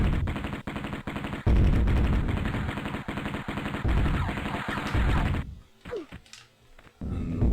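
Rapid gunfire from Lara Croft's pistols in Tomb Raider on the Sega Saturn, a fast run of loud sharp shots for several seconds, then a brief pause and more game sound.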